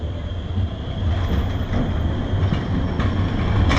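A tram rolls past in Kraków, Poland, beside old architecture: a steady, close rumble of wheels on rails with faint clicking, held at an even loudness throughout and no voices.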